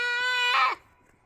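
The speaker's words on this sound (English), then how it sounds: "They're just two nice goats." A goat gives a single short bleat, near and fairly loud, with a rising strained break toward the end before it cuts off into quiet.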